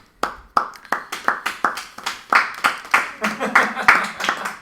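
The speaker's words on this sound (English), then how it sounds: "Magus clapping faster" Hands clapping at a gaming speedrun event, a steady run of about fifteen sharp, close claps that quickens slightly as it goes.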